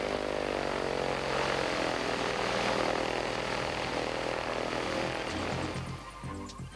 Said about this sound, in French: le bruit d'un moteur avion est à peu près à la moitié dû au bruit de l'hélice